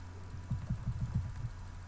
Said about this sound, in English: Now just move using control and arrow keys.